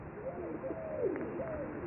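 Soft, low cooing calls from birds, a few drawn-out warbling notes over a steady background hiss, fairly close and moderately loud.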